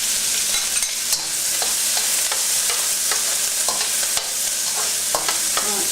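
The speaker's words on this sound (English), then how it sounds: "Add sesame oil and spam. Cook on high for 1 minute." Spam fries in sesame oil in a pan on high heat, a loud steady sizzle broken by repeated scraping stirs.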